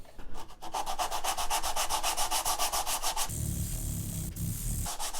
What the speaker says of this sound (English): Now I am going to sand.